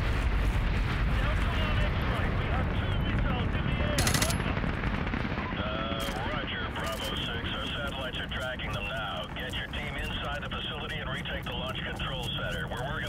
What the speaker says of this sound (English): We have a missile launch.